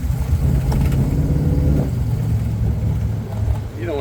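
A 1962 Chevrolet Corvette barn find with a Powerglide automatic climbs a hill, its low engine rumble steady and close inside the cabin, wind noise around it, and someone talking over the drive.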